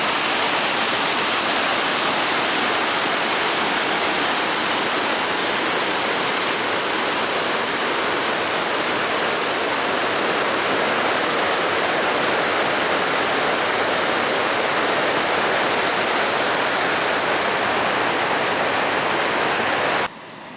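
Water rushes over the dam on the Sable River below Hamlin Lake, a man-made lake, in a steady, loud, close roar that stays unbroken throughout with no voices.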